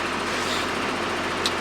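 A Ford TW25 tractor engine idles as it warms up on a cold day, a steady low rumble with constant broadband noise, close and moderately loud, no talk over it.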